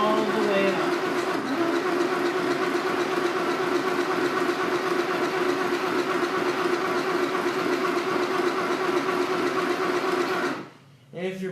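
A home sewing machine winds a bobbin with a steady fast whirring motor hum that runs continuously at close range, then cuts off abruptly near the end.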